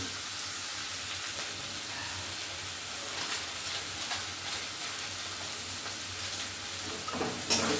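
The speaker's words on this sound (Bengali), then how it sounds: "একটু লবণ দিয়ে ভেজে নেব" Sizzling frying in a pan with a little salt, part of cooking an egg and green jackfruit curry in a village kitchen; a steady soft hiss and crackle runs throughout with no talk.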